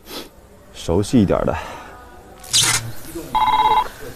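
A telephone rings briefly near the end, a short bright electronic ring following people talking and a burst of noise.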